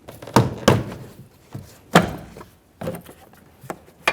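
A plastic trim tool pries the door panel off a 1994-1997 Honda Accord, its push clips popping loose in sharp, irregular snaps and thunks, close and loud.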